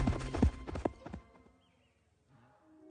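A young water buffalo runs flat out, its hooves giving a burst of quick, heavy clip-clop beats up close that fade into near quiet, then a fresh thump at the very end.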